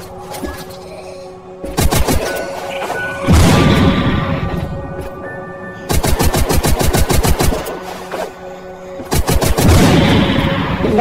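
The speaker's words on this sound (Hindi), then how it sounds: "यहाँ पे मैंने ग्रेनेड मार के सबका काम ऐसे खत्म कर दिया दोस्तों" A video game battle with rapid bursts of automatic gunfire and heavy booming blasts consistent with a grenade going off, loud and close, repeating several times over the scene.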